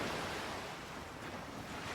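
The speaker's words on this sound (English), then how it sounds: "The steady roar of the waves, closer and more vibrant now." Ocean waves roll steadily onto a seaside shore, a continuous broad surf roar with a light breeze, moderately loud and unbroken throughout.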